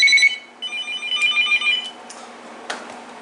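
A Uniden EXAI978i cordless phone plays its clatter ringtone, a bright rapid trilling ring that fades out, with a few faint knocks afterward.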